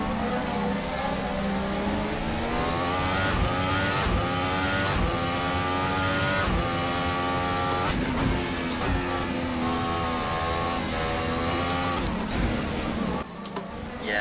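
Simulated Formula 1 2018 race car engine at Paul Ricard in Assetto Corsa, a loud continuous high-pitched whine rising and falling through gear changes and downshifts into corners, with faint talk underneath.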